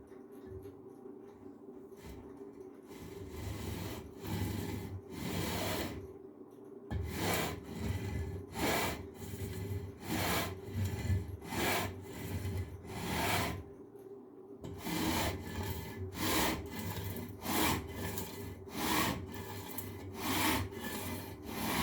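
Guitar frets on a Musima 1657 being filed and leveled during fret dressing, a repeated back-and-forth rasping stroke in a steady rhythm, close and clear, with a short pause partway through.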